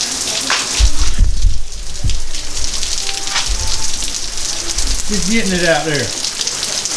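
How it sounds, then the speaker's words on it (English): Heavy pouring rain drums steadily on surfaces outside a workshop, a loud continuous wash of noise, while someone speaks briefly over it. "You can probably hear it. It's pouring rain."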